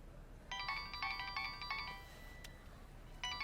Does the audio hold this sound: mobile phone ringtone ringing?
yes